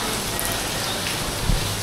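Steady rain falls in a broad, even hiss, close and constant, with no talking.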